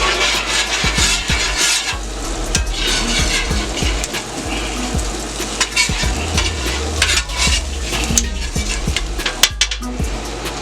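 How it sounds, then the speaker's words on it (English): An egg fries in butter on a steel pan, a loud steady sizzle filling the whole stretch with occasional scraping and clinking of a utensil against the metal, no talking. "Just a fried egg here."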